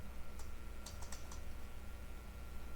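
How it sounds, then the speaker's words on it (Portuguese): A computer keyboard is typed on in a quiet room, with a handful of soft, close keystrokes clustered near the start, then only a faint steady background hum. "Vou digitar aqui"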